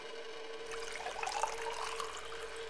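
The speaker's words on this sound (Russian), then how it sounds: "Вода из-под крана." Tap water running from a faucet into a glass in the video game Cradle, a steady hissing splash that starts after a moment of quiet and continues evenly to the end.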